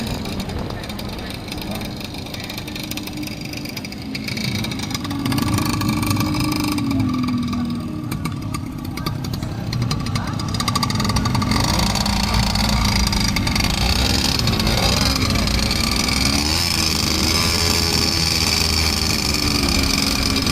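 Scooters being called in to enter the Art of Speed 2026 show at MAEPS Serdang, engines idling and revving at close range amid a noisy crowd, with people talking over the mechanical drone.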